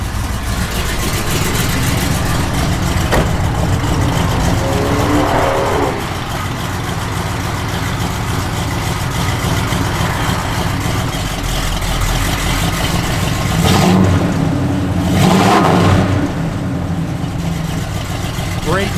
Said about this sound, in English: Those headers just sound so cool.